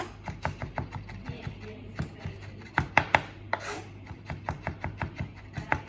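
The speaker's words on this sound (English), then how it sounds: "chop it up a bit finer" A knife chops food finely on a board in quick, steady, close taps, over a dozen sharp strikes in a brisk rhythm, with no talking.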